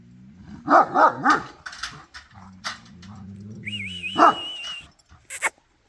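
A dog barks a few times up close, followed by whining and whimpering sounds, with a thin whistle-like tone briefly above.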